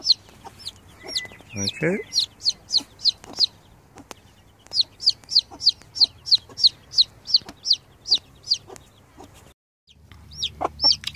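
A hen clucks close by among her chicks on a small farm homestead, with a regular run of sharp high peeps from the chicks and a brief spoken word partway through.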